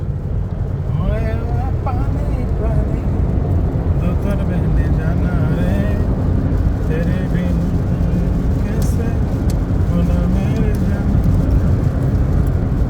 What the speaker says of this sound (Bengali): উনি গাড়ি ড্রাইভ করতেছে।